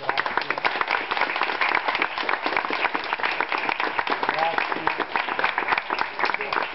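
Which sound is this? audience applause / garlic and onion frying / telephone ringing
audience applause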